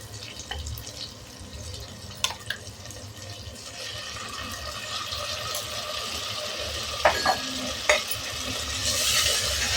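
Soft sizzling of ground spice paste sautéing in a pan for drumstick curry, with occasional stirring clinks and scrapes; the frying grows a little louder toward the end.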